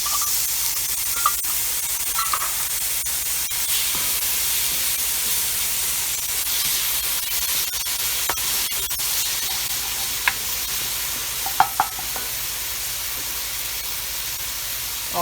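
Green chilies sizzle and hiss steadily in a hot pan for a chile verde, a loud continuous frying spray with occasional stirring clicks and scrapes, no voices.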